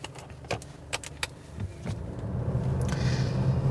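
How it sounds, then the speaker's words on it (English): Alfa Romeo Stelvio SUV with a 2-litre four-cylinder petrol engine cranks and fires, a few sharp clicks giving way to a rising, raspy engine rumble that settles into a steady, close idle. "Still, when you fire up, it does sound quite raspy"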